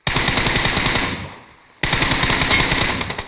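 Rapid automatic gunfire from the mobile battle royale game PUBG Mobile rattles in a loud, dense burst, stops briefly for about half a second, then resumes with another fast string of shots.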